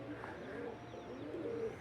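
Soft cooing and wing flutters of young domestic pigeons on their first flights in the open air, faint and somewhat distant, a few low calls repeating.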